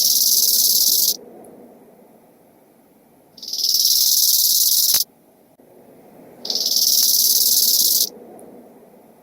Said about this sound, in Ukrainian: І ось ми бачимо, як співає кобилка завдяки тертя задніми ногами об їхні крила.